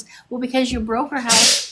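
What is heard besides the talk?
sneeze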